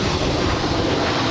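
An Airbus A319 touching down on the runway at Los Angeles airport gives a brief, loud, rumbling engine roar that stays steady and close.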